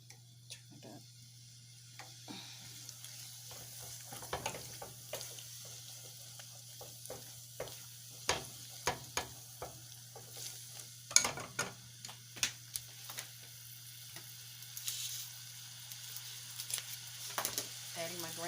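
Hot oil sizzles steadily in a pan ahead of the 80/20 ground beef, a soft continuous crackle broken by brief clicks and small pan taps, heard up close with no talking over it.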